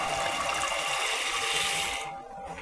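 Dry split peas, a full pound, poured into a soup pot of liquid, a steady loud rushing patter for about two seconds that cuts off abruptly, leaving faint settling noise.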